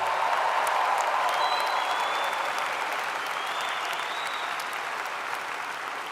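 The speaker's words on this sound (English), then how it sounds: "Give those mothers a round of applause, would you please?" A college ceremony audience gives a round of applause for mothers on Mother's Day: dense, sustained clapping from a large crowd, steady and fairly loud throughout, with no talking over it.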